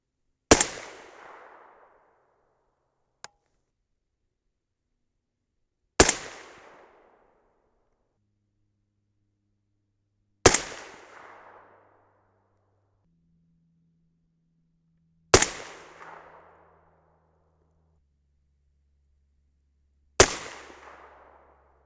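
Five 6.5 Grendel rifle shots firing 135gr Berger Classic Hunter bullets, each a sharp loud crack with a short fading tail, spaced about five seconds apart in otherwise quiet surroundings.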